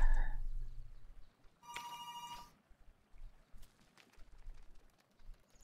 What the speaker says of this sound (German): haben wir jetzt gerade einen Telefonsound in-game oder was ist das?